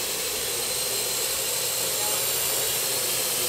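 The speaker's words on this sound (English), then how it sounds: "And the air drone is following my moves." Parrot AR.Drone 2.0 Power Edition quadcopter flying nearby, a steady, loud whirring buzz of its small rotors holding constant throughout with no voices.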